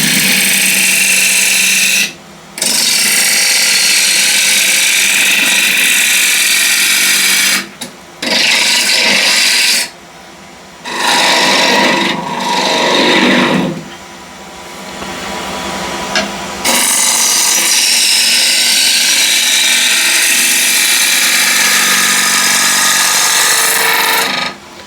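Wood lathe spinning at 1400 RPM while a ball gouge cuts beads and coves, giving a loud, steady rasping and scraping that keeps breaking off into brief quiet gaps as the tool lifts from the wood.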